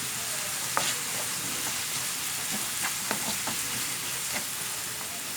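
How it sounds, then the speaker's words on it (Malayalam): Onions with salt sautéing in a pan for a chicken dish, giving a steady, even sizzle throughout with occasional light spoon taps and stirs, close and consistent. "സവാള ഇട്ട് നന്നായിട്ടൊന്ന് നമുക്ക് വഴറ്റിയെടുക്കണം."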